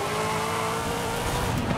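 A car in the racing video game Forza Horizon 5 takes a corner hard, its engine roaring loud and continuous with a rough, gritty edge and faint tyre noise throughout.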